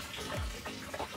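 Water runs through freshly connected DIY storage tank piping of metal and a drum reservoir, a faint steady splashing trickle with a brief gurgle, no voices.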